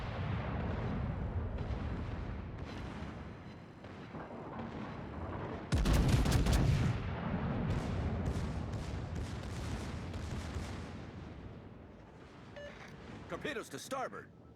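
Ship guns fire in World of Warships amid a dense rumble of naval battle, with one heavy booming salvo standing out midway and fainter blasts and crackle around it, while a voice speaks underneath.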